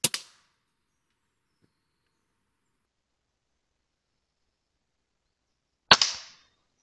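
Two sharp, short cracks from a Weihrauch HW100 air rifle shooting at squirrels, spaced about six seconds apart, each with a brief metallic ring, separated by near-silence.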